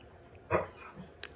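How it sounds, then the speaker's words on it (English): An old dog gives one short, faint bark in the background, followed by a tiny yip a moment later, against a quiet room. "That was my dog, I'm sorry."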